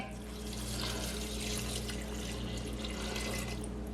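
Coconut milk is poured into a cooking pot while making Jamaican rice and peas with kidney beans, a steady liquid pouring and splashing sound lasting several seconds over a constant background hum.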